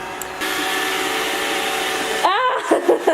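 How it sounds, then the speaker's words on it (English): A Roomba robot vacuum cleaner hums and whirs steadily in an apartment, a close and even motor drone that cuts off toward the end while people speak. "Get it, Roomba. That's our girl."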